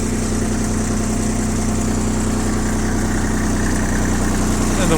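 A Kubota GT21 wheeled-tracked mini tractor's engine runs at a steady idle, a close, continuous low chugging hum with vibration that barely changes over several seconds.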